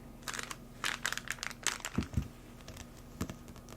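Plastic bag being peeled off a stack of three magazines, giving a series of close crinkling and crackling bursts with short pauses between them, no voices.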